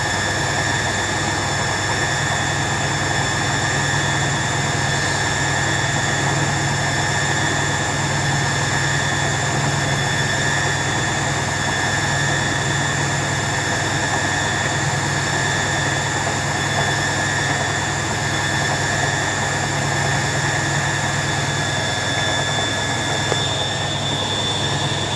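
A Servis Quartz MK600 washing machine on its 600 RPM spin, shaking hard, gives a steady, loud drone with a constant whine that holds unchanged throughout.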